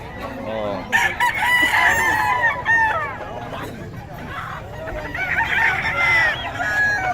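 Several roosters at a poultry vendor's stall crow and cluck, with overlapping crows rising and falling at close range; a voice speaks briefly over the birds.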